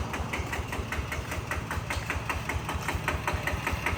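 A walk-behind tractor's small single-cylinder engine chugs steadily nearby, with a rapid, even knocking rhythm that holds throughout.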